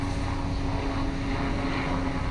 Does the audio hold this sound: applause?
no